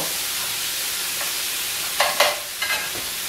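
Beef and bacon frying in a pan, a constant bright sizzle with a few sharp scraping stirs and clatters toward the end, no talking.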